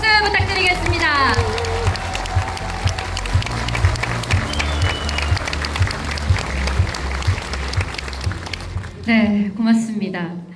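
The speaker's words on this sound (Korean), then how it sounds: "다시 한번 큰 박수 부탁드리겠습니다" Loud applause from an audience at a Korean book launch event for a National Assembly member, steady clapping with music and voices mixed in, ending with someone speaking over the room.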